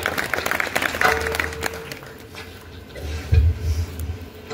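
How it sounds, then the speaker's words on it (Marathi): Brief burst of audience clapping at the start of a Marathi kirtan that fades away, leaving a quieter room with some low rumbles. "टाळ्या झाल्याच पाहिजे."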